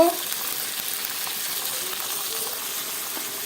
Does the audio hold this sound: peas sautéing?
yes